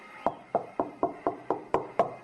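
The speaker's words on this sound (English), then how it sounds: "Knock louder." Eight evenly spaced knocks rap on an apartment door, quick and fairly sharp, close by with no talking over them.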